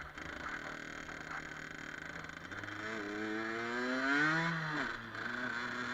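Gilera RCR motorcycle engine running steadily nearby, its drone rising in pitch with a rev around the middle, then easing back and holding an even idle-like hum to the end, with no voices.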